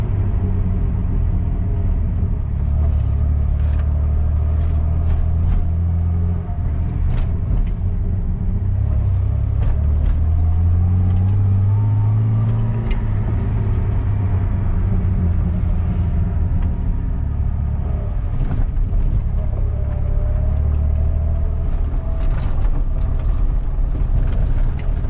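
A Jeep TJ with its sway bar removed crawls off-road, its engine and drivetrain giving a steady, close, low rumbling drone that swells slightly midway and carries on without a break and without voices.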